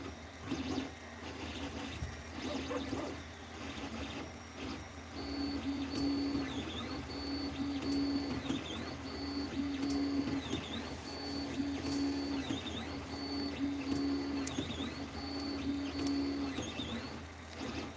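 A 3D printer runs steadily while printing a Benchy boat model, its stepper motors whirring in repeating rising and falling tones, moderately quiet and close, with no talking.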